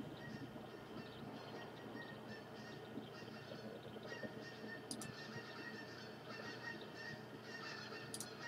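In the hunting game The Hunter Classic, geese honk while flying overhead. The faint, distant calls repeat over a steady outdoor wash of ambient noise.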